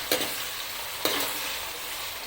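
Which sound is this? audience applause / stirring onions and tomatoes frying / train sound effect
stirring onions and tomatoes frying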